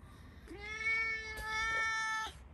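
A house cat meows in an unusual, altered tone: one drawn-out, rising cry followed by a second long, steady meow, close and fairly loud with no talking.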